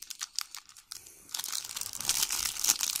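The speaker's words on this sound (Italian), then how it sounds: "andiamo a tirar fuori le carte." A foil trading card pack, a premium football sticker packet, is torn and crinkled open by hand, giving dense papery crackling and rustling close up that grows louder over the second half, with no talking.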